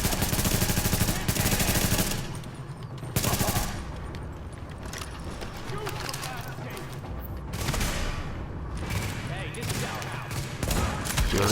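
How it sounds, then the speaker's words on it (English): Assault rifle fire rattles in sustained bursts during a firefight in Tom Clancy's The Division, loud and close at the start, then continuing in intermittent volleys amid game effects and background voices. "I'll just pull my assault rifle out"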